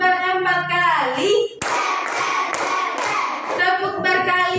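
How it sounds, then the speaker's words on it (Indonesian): Children in a classroom clap their hands together in a few sharp, loud bursts after a teacher's prompt, with a voice talking before the claps. "Tepuk berempat kali."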